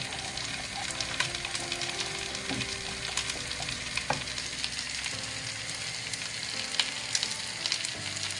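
Onions cooking in butter in a pot for braised rabbit legs, a steady soft sizzle and frying crackle continuing throughout with occasional small pops, no talking.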